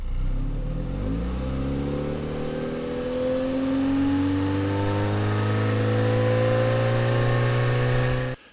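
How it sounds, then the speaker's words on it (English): A stock car-engine recording from an engine-analysis program, the motor slowly accelerating with a steady, rising drone, loud and close throughout, no voices, cutting off at the end. "a file like that where the engine is slowly accelerating or decelerating"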